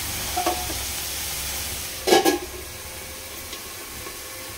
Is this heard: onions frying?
yes